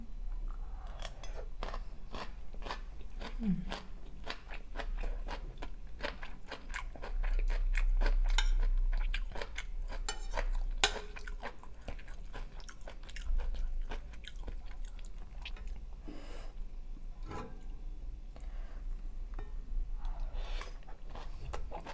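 Close, crunchy chewing of stir-fried kale with pork and fried garlic, with steady crisp bites and mouth sounds running throughout and no talking.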